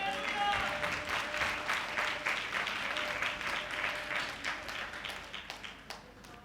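A congregation claps hands during a Tamil communion service, dense rhythmic clapping at moderate volume that gradually slows and thins toward the end, with a voice speaking beneath it.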